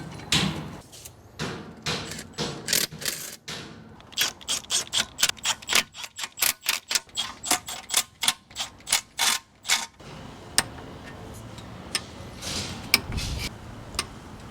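A torque wrench ratchets and clicks in quick, even bursts while tightening bolts on a Cummins Big-Cam 3 diesel engine in a 1971 Dodge L1000 truck, with close metallic ticks and short pauses between runs.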